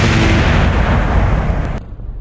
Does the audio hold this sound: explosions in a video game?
yes